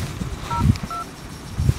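Phone keypad tones as a police emergency number, 102, is dialed: a few short, clear DTMF beeps in quick succession over low background rumble, with no talking.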